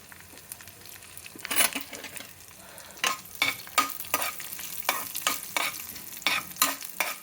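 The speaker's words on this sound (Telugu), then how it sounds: "కొద్దిగా ధనియాలు, జీలకర్ర, వెల్లుల్లిపాయలు ఇది కొద్దిగా వేగిన తర్వాత ఈ ఎండుమిరపకాయలు కూడా వేసుకోవాలండి" Coriander seeds, cumin and garlic fry in a pan for a tomato chutney, giving a steady sizzle broken by about a dozen sharp, close stirring scrapes that come in quick bursts.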